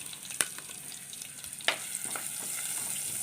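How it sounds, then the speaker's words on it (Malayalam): Chopped garlic and ginger fry in hot coconut oil for a squid curry, giving a steady close hiss with a couple of sharp stirring clicks early on. "വെളിച്ചെണ്ണയൊക്കെ ചൂടായി വന്ന സമയത്ത് ഒരു 3-4 അല്ലി വെളുത്തുള്ളി അരിഞ്ഞതും ഒരു ചെറിയ കഷ്ണം ഇഞ്ചി അരിഞ്ഞതും കൂടെ ഇട്ട് കൊടുക്കാം"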